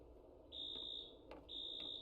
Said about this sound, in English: And that's a fire alarm.